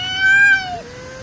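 Two mother cats fight, and one loud, close, drawn-out yowling meow rises and then trails off in a single short cry.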